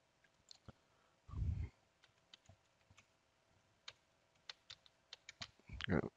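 Credentials typed on a computer keyboard, with scattered close key clicks over about six seconds, a few quick bursts and some louder thumps in between.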